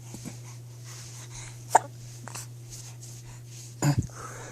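A small dog hiccuping indoors: a sharp isolated hiccup early on and a quick double hiccup near the end, soft and close, over a steady low hum.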